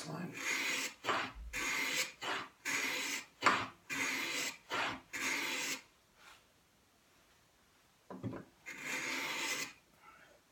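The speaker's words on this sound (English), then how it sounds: "Take some nice shavings." Hand plane or chisel shaving wood while dovetailing an apothecary chest: about eight rhythmic rasping strokes in quick succession, then a pause and another longer stroke, close and fairly loud with no talking.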